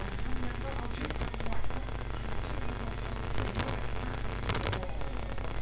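Rain falling in Minecraft, a steady hiss of game rainfall throughout with occasional crackling bursts, mixed under someone talking.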